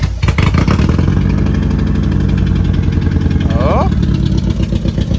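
A straight-piped Honda Accord engine idles loud and close, with a steady rumble that stumbles unevenly from a slight misfire, while a voice briefly speaks over it.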